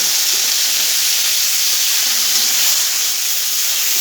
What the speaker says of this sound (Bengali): টমেটোটাকে আমি সুন্দর করে ভেজে নেব।